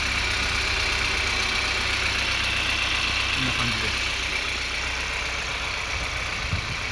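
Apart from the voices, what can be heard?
Honda S2000 Type S (AP2) engine idling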